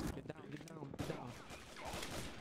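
Gunfire in a roleplay shooter video game, bursts of shots mixed with overlapping voices shouting, fairly dense and close throughout.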